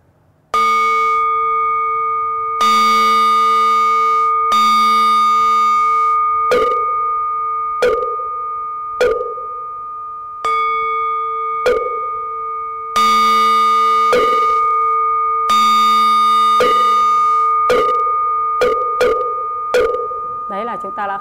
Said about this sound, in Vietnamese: Thầy Yến khai chuông mõ cho các quý đạo hữu xem để thực hành.